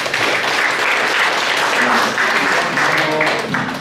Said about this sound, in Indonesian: Sekali lagi tepuk tangan yang meriah untuk kelompok